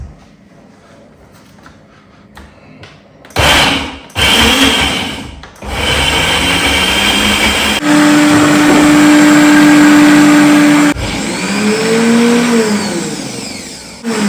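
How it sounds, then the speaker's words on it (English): Homemade tomato paste of beetroot and tomato being blended: a few clattering knocks, then a loud, steady motor whir that runs for about eight seconds with a slight dip in pitch partway through. "Let's cover it up and blend"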